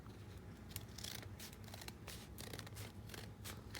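Quiet, close snips and rustles of scissors trimming folded paper for a small file folder lapbook, an irregular run of soft cuts over a few seconds.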